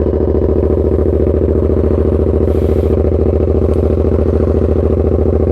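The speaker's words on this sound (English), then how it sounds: "So KO Lightning exhaust, straight pipe on the 2015 MT-07." A 2015 Yamaha MT-07 with a KO Lightning straight-pipe exhaust idles after a cold start, throbbing in a steady, loud, close-up rhythm with a constant low pulse and no voices.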